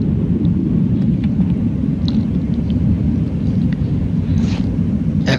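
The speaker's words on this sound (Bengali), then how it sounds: "বিমানের ভিতরটা আপনারা দেখতে পাচ্ছেন। বিমান এগিয়ে চলছে" Inside an airplane cabin during the takeoff roll at Dubai airport, a loud, steady low engine roar and rumble fills the space, with a few faint clicks and rattles.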